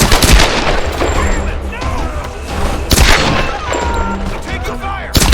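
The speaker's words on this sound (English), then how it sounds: "Taking fire!" Gunfire erupts throughout a Tomb Raider: Definitive Edition firefight, dense loud bursts and booming shots overlapping with shouted voices and combat din.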